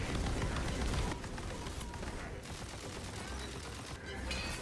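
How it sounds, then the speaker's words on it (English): Rapid gunfire from a weapon in the Tiny Tina's Wonderlands video game, a dense continuous burst of shots mixed with game effects, loud and sustained through the whole stretch. "I don't like this weapon at all. The recoil's horrific."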